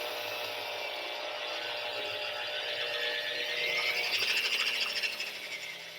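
An electric hand mixer fitted with regular beaters churns English muffin dough with a continuous motor whine that strains and shifts in pitch as the dough thickens, no voices over it.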